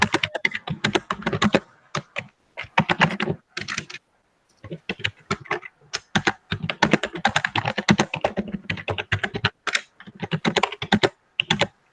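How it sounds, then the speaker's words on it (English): A really old computer keyboard clacks in quick bursts of typing, near and crisp, with short pauses between runs of keystrokes and no talk. "It's just a really old keyboard."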